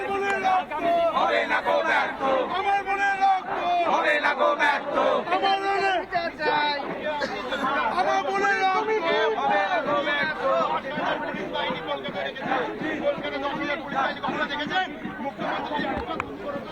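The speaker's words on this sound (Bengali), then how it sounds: "তারা উই ওয়ান্ট জাস্টিস স্লোগান দিচ্ছেন, বিচার চাইছেন তারা" Protesters at a street rally chant slogans for justice, a large crowd of loud massed voices that carries on without a break, dense and close, with shouting and babble mixed into the chant.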